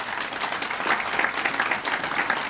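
A Memorial Day ceremony audience at Fort Custer claps in a dense, steady round of applause that lasts the whole moment, with no voice rising above it.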